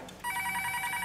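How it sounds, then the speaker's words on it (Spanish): An office telephone on a lab PBX system rings for an incoming call, giving one short electronic ring burst that starts abruptly and sounds clear and close. "solo timbra el teléfono de allá"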